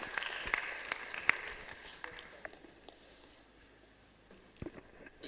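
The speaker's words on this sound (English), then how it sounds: "A round of applause for him," An audience at a live event claps, a soft, fairly distant patter of applause that fades out partway through, then a few scattered claps.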